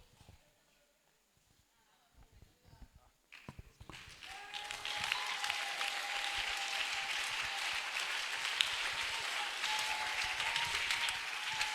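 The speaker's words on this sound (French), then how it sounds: "Est-ce que tu peux acclamer très fort le Seigneur?" Congregation at an evangelistic crusade in Tiassalé cheering and applauding, a dense wash of clapping and voices swelling after a quiet opening and holding steady and loud, with a voice speaking over it.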